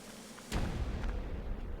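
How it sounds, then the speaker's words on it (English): Fireworks going off in the video game Ico: one sudden muffled boom followed by a dense, rumbling low roar that stays at a moderate level to the end, with no talking. "Look, he's playing with fireworks."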